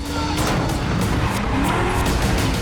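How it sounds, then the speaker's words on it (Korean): A Ford Mustang's engine exhaust roars loudly and continuously for a few seconds, mixed with what sounds like tire noise, with no talking. "키를 꼽아 돌리면 들리는 배기음"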